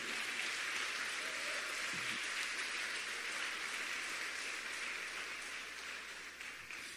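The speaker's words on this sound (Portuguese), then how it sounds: "se expresse e aplauda ao Senhor" Church congregation applauding together, a dense steady wash of clapping that holds evenly throughout and eases slightly near the end.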